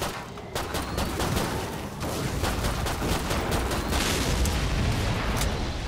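Dense, continuous gunfire from Killing Floor 2 with an M16 and HRG incendiary rifle, rapid overlapping shots and booms filling the whole stretch at steady, loud intensity with no talk.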